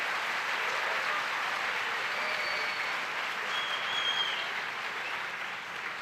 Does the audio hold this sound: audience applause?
yes